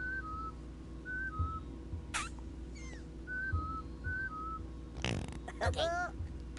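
Whistling in the video game Oddworld New 'n' Tasty: short two-note whistled phrases repeat several times, then a sharper burst of whistles, all over a low steady game hum.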